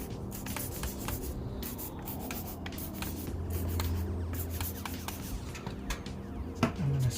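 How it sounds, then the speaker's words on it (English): Short hissing bursts of cleaner sprayed onto a car wheel and brake calipers during a wheel and tire cleaning, close and fairly quiet, mixed with rubbing and handling noises. "And then I spray a little here."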